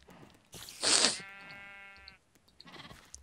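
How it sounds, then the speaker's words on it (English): A sheep in a farming video game gives one loud, close, wavering bleat, preceded by a soft rustle and followed by quieter scattered clicks. "See the sheep? Beautiful. Beautiful little sheep."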